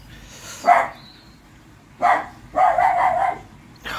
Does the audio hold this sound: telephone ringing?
no